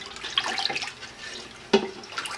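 Liquid sloshing and swirling as milk with added rennet and calf lipase is stirred in a pot for homemade feta, with a brief clink of the utensil near the end.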